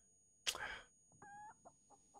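A chicken in the video game Breathedge gives a sharp squawk followed by a few short clucks, faint and close in a quiet space.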